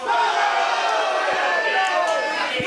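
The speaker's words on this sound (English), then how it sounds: "Simon Sermon trying to quiet down the crowd, but the crowd just picking up fervor" Wrestling crowd at a live event yelling and chanting loudly and continuously, a dense wall of voices drowning out a man trying to address them without a working microphone.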